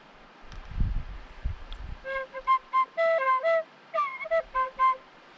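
A breathy low whistle plays a short run of separate notes after some rustling handling noise, fairly close and moderately loud.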